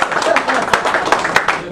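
A round of applause at a retirement dinner in Mario's Restaurant, Plainview, NY: dense, close clapping from a room of diners, steady and brief.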